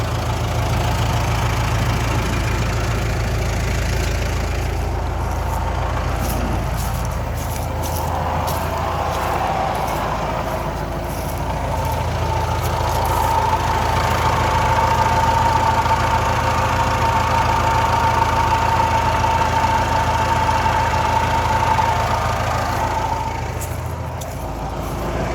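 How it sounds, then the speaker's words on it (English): A Kubota M9960D tractor idles with a steady engine rumble, and a faint whining noise from the transmission case rises above it midway, all continuous and fairly loud, with no talk. "Louder on the outside of the tractor, but it's still coming from the transmission case"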